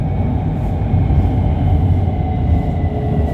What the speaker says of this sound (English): this is a CRRC train